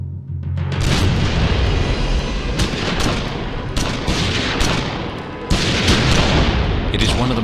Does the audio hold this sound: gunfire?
yes